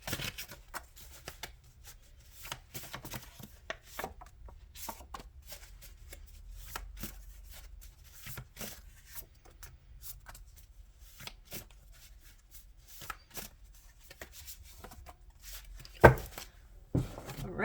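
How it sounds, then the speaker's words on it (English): Tarot cards are shuffled by hand in quick, crisp riffling bursts that repeat steadily close to the listener, with a sharper snap near the end and no talking. "I'm just gonna shuffle the other ones too before I flip them over."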